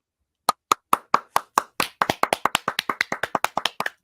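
A single pair of hands claps, starting slow and spaced, then speeding into quick, even, crisp claps close by.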